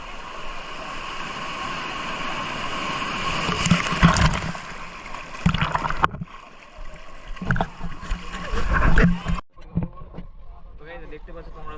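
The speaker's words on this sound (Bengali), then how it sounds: "বাট ঢেউটা অনেক বেশি।" Large sea waves breaking on Digha beach as a storm approaches, loud surging crashes and washes that rise and fall close by, with people talking over the surf.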